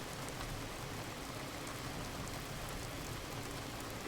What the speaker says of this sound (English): We'll hold out in the shrine until the rain clears.